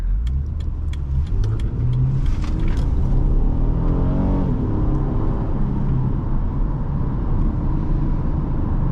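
A 2010 Acura MDX with a 3.7L V6 accelerating hard, its engine note rising steadily under a constant interior road roar, heard from inside the cabin with no talking.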